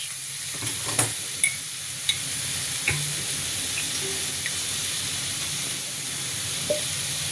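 Mushroom curry with tomato sauce is stirred in a pan over a constant frying sizzle and hiss, with a spoon scraping and tapping the pan at irregular moments.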